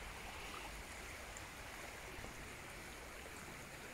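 A river flows past the bank in a steady, even rush of water, faint and continuous with no voices or other sounds.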